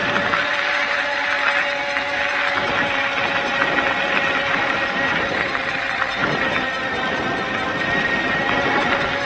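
Electric bike motor pulling up a hill below full throttle, a steady whirring drone with faint rhythmic ticking and road noise, close and continuous.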